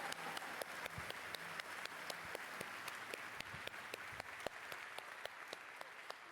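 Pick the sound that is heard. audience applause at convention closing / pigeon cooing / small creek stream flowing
audience applause at convention closing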